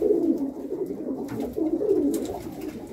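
Pigeons coo continuously in a loft, several birds overlapping in soft low rolling calls, close and steady throughout, with no talk.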